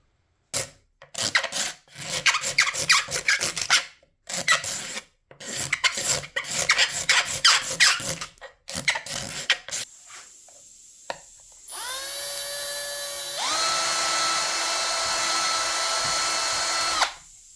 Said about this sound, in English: Use a Forstner bit to make the recess of that size.